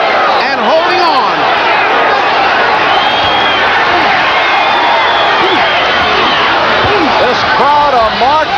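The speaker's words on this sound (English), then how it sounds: "The crowd taking exception to the low blows thrown by Dwight Walker" A boxing crowd in Tampa roars and shouts in protest at low blows during a Mark Frazie vs Dwight "Tiger" Walker bout, loud and sustained, with a commentator speaking over the din.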